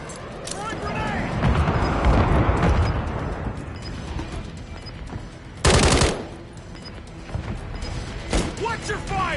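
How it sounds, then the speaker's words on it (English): Heavy gunfire and a thrown grenade's explosion in Call of Duty MW3 multiplayer: dense bursts of shots, then a sharp loud blast around the middle, with voices shouting over the combat. "Throwing grenade!"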